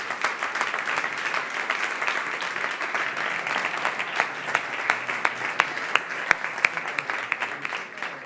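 An audience breaks into steady, dense applause to welcome a guest speaker at a political event, a continuous round of clapping with occasional sharper claps near the front.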